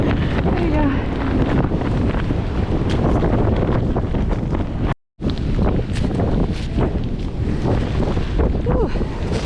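Strong gale-force wind buffets the microphone on a beach during razor clamming, a loud continuous roar that fills the whole stretch, with a brief dropout partway through.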